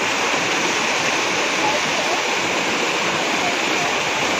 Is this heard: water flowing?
yes